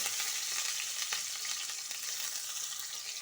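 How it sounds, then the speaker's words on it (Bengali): Onion frying in a pan with green chillies for a quick stir-fry, a soft, steady sizzle and crackle heard up close at low volume with no talking. "পেঁয়াজ দিয়ে জলদি ভাজা করব"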